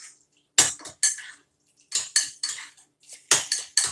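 A metal utensil scrapes and clinks against a dish while stirring chicken and vegetables, a series of short, close scraping strokes in irregular bursts with quiet gaps between.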